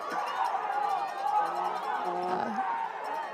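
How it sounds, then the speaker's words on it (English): Spectators at a women's university soccer semifinal, Cape Breton vs UBC, raise a moderate, somewhat distant swell of crowd noise and murmured jeering that rises and falls over a few seconds. "The crowd's protesting"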